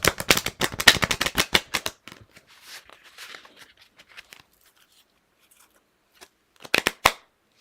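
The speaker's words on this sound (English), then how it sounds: "I'm not a good shuffler." A deck of oracle cards is shuffled in a fast, close riffle of crisp flutters lasting about two seconds, followed by faint soft handling and then a brief second riffle.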